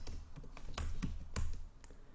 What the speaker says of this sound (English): So I'm typing these up so I can paste them into the windows for each of the rooms